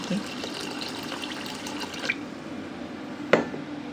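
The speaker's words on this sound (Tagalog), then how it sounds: "At syempre, lalagyan natin ng tubig." Water poured into a rice cooker pot holding rice, a steady pouring wash running throughout with a brief clink near the end, close and moderately loud with no voices.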